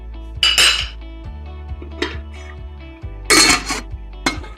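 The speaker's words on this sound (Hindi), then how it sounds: "20 मिनट के लिए अब ढक देंगे।" Metal lid set onto a cooking pot of dal palak (moong dal with spinach), heard as sharp clanks and rattles in two bursts with a few lighter clinks between, close and loud with no talking.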